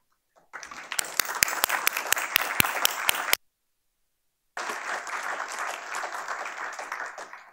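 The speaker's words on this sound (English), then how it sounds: "That applause is incredibly well earned." A conference audience at a journalism keynote applauds in two bursts of dense clapping with a clear silent gap between them, and a few sharp individual claps stand out early on.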